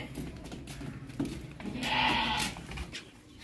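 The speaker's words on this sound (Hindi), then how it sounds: "ये देखे 2 दांत बकरा, दुंदा बकरा है।" A heavy two-toothed sacrificial goat bleats loudly and close at a livestock market before Eid, one drawn-out cry rising over crowd and handling noise.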